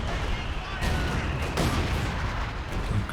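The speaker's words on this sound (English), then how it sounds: "Howitzer firing a little bit too deep though." Howitzer artillery fire in the Company of Heroes 2 strategy game: dense, continuous booming and crackling of shells and gunfire in a busy battle, with a few heavier thumps standing out.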